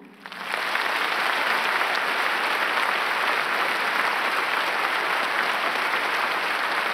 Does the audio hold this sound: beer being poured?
no